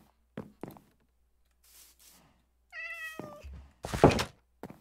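Minecraft cat meowing in a game village, one clear meow with a gliding pitch, preceded by soft thunks and footstep-like taps and followed by a louder thump, with no talk.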